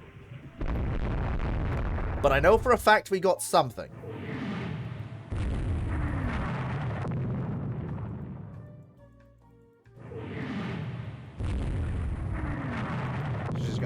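Naval battle explosions from bomb hits and gunfire in the Rule The Waves 3 game: a loud crackling burst followed by repeated heavy booms, separated by short gaps, with someone talking intermittently over them.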